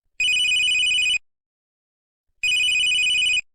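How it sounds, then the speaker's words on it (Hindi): A telephone rings in two long bursts separated by a pause of over a second, each burst a loud, bright electronic trill heard clearly with no talking over it. "लेकिन तभी यहाँ पर ओयो वालों का फोन बजता है।"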